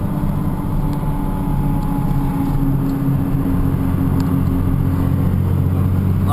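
A 6.2L Cummins diesel engine pulls steadily uphill in fourth gear under about 38 pounds of boost, a low, continuous droning rumble with a faint whine, close and loud with no talk.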